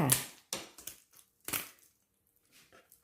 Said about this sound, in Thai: หั่นชิ้นพอคำไปเลยค่ะ